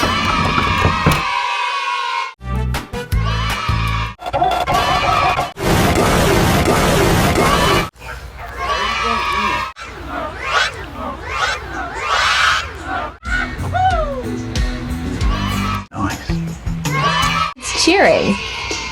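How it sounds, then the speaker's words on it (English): Children cheer and shout in a noisy crowd, with bursts of excited yelling and screams cut between abrupt edits. Loud, close voices sit alongside stretches of talking and other effects. "Cheering."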